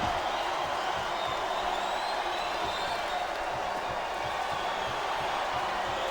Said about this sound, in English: It's great to hear the fans come alive every time Jeff Hardy sets foot in the ring